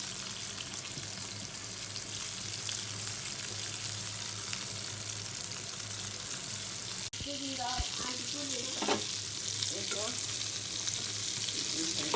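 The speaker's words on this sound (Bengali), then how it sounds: "লাল লাল করে ভাজবো" Chicken frying in a pan until browned gives a steady, loud sizzle that runs throughout, with brief stirring clatter partway through.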